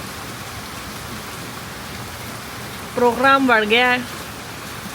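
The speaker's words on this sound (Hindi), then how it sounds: "इतनी तेज़ बारिश हो रही है" Heavy rain pours steadily in a dense, even hiss throughout, with a person briefly speaking over it near the end.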